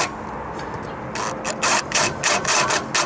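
A ratchet tightens the center bracket bolts of a slim line roof rack on a GX460 or GX470, giving short bursts of rapid clicking close by after a quieter opening.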